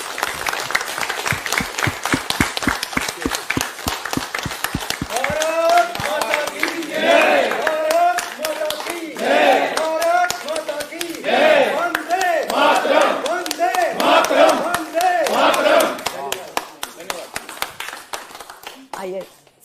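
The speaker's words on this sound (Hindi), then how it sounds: "आप लोग जोरदार तालियों से स्वागत करें।" A studio audience bursts into loud, sustained applause and cheering to welcome The Kashmir Files cast on a TV show, rhythmic clapping rising and holding before fading, with a host speaking over it.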